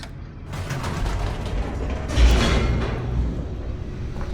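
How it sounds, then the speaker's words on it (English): A steady mechanical rumble with creaking and grinding from an elevator descending in The Stanley Parable: Ultra Deluxe, swelling briefly midway before settling back into a continuous low drone, with no voices. "The elevator raced downward, plummeting towards an unknown fate."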